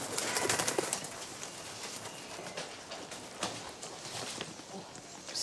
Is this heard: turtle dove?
yes